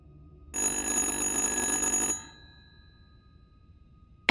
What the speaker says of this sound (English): Answer the goddamn phone!